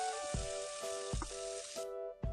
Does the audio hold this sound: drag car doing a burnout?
no